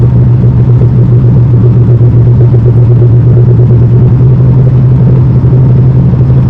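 Steady low engine rumble and road noise from a car cruising smoothly on a test drive, loud and constant throughout with no voices.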